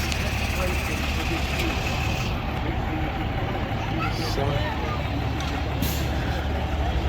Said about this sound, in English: So the next one is the Bedford J-Type, number 18, entered by Jeff Crackley